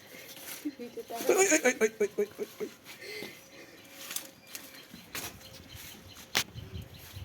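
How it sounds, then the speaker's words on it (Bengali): A baby goat bleats in a short series of loud, wavering cries, followed by quieter sounds, with people talking nearby. "এই দেখো ছাগল বাচ্চা।"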